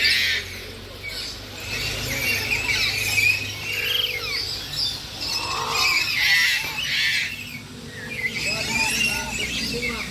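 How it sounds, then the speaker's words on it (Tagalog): Parrots at a safari park squawking and screeching repeatedly nearby, harsh calls overlapping with people talking in the background. "Kana mga parrot."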